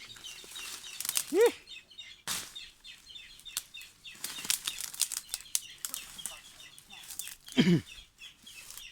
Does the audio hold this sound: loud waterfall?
no